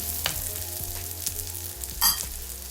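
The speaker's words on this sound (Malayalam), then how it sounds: "ഒരു സബോള അരിഞ്ഞതും, ഒരു ചെറിയ കഷ്ണം ഇഞ്ചി അരിഞ്ഞതും, ഒരു 5 വെളുത്തുള്ളി അരിഞ്ഞതും കൂടെ ഇട്ടിട്ട് ചെറുതായിട്ടൊന്ന് വാട്ടിയെടുക്കണം" Chopped onion, ginger and garlic sauté in coconut oil in a pan, a constant close sizzle broken by light stirring scrapes and one louder utensil clatter near the end, with no voices.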